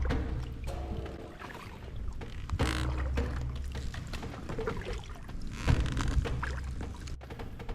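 A boat is paddled through Low Country water: irregular splashy paddle strokes and water sloshing, fairly close and steady, with no talking.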